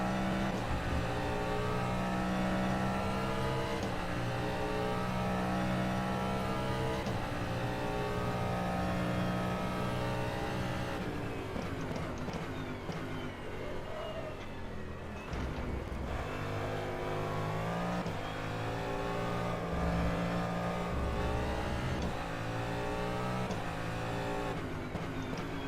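A race hypercar engine in the rFactor 2 racing game at Spa revs hard through repeated climbing and dropping sweeps as it shifts gears, loud and continuous with no voices.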